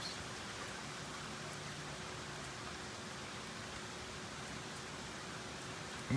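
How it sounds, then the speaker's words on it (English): Steady rain falls outdoors at a park during a thunderstorm, a dense even hiss of drops on surfaces holding constant for the full stretch with no thunder or voices standing out. "It's raining."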